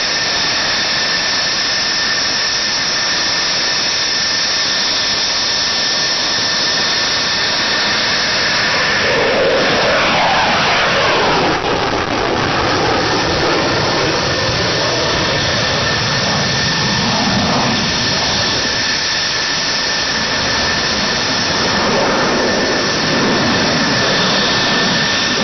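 A Dassault Rafale multi-role combat jet roars through an aerobatic display at high angle of attack, its loud, continuous engine noise swelling and shifting in pitch as it passes near, with no talking.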